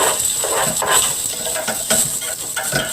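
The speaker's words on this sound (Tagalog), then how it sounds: "Halo-halo lang po natin. Hanggang mag-golden brown yung garlic." Garlic frying in a pan while being stirred, a steady sizzling hiss broken by repeated scraping strokes of the spoon, close and fairly loud.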